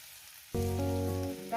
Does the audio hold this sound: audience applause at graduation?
no